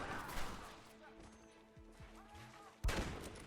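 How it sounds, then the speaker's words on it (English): Gatling gun fire in the Western video game Red Dead Redemption: a loud burst of gunfire at the start, a quieter stretch with tonal game sounds, then another sharp, heavy burst near the end. "You man the Gatling gun, Marston."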